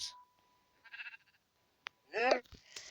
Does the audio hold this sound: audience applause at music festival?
no